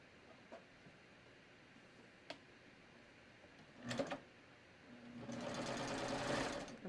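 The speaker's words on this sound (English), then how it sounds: "All right, so I'm just going to start serging this." A serger overlock machine sews a gently stretched knit strip, starting with a few faint clicks and a short burst before settling into a steady, moderately loud whirring run with no talk over it.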